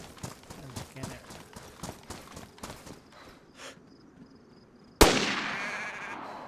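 A goat hunt in DayZ: a run of quick, light taps, then a single loud, sharp gunshot rings out close by, leaving a long echoing tail.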